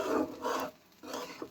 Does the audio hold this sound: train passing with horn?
no